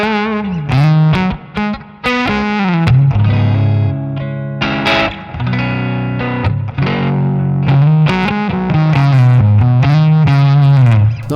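An electric guitar played through the overdrive tone of a NUX Amp Core Studio Deluxe amp model: loud, sustained distorted notes and chords in a continuous melodic phrase, with slight chorus and reverb, no voices.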